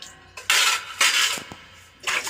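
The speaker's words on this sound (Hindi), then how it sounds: "बर्तन धोवत है" Dishes being washed at home, with pots and utensils clinking and clattering in loud bursts separated by short pauses, close by with no speech.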